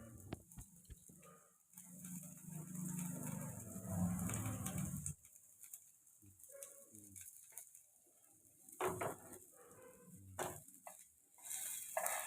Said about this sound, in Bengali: আদা কুচি, রসুন কুচিগুলো দিয়ে একটু নেড়ে নিতে হবে।